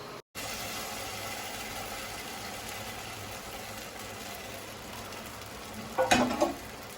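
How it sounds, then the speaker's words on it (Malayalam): Rice batter poured into a pressure cooker over frying onions for kalathappam, heard as a steady background sizzle with a brief clattering, splashing burst near the end; no voices. "നമ്മളിതാ നമ്മുടെ ഉള്ളിയെല്ലാം പാടി വന്നിട്ടുണ്ട്. ഇതിനകത്തേക്ക് ഒഴിക്കാൻ പോകുന്നത് കുക്കറിലേക്ക് അരി ഒഴിക്കുന്നേ."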